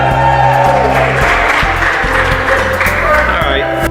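Audience applause fills a hall during an athletic hall of fame induction ceremony, a steady dense clapping with crowd noise and background music tones running underneath for the full stretch.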